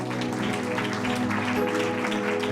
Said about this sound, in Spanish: Denle una ofrenda de aplauso a Jesús esta noche.